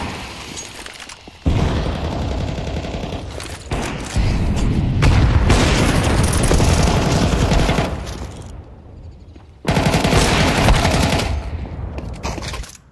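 Rapid bursts of automatic gunfire and booming impacts from Counter-Strike 2 competitive play, loud and sustained across long stretches with brief gaps, occasional shattering, and little talk.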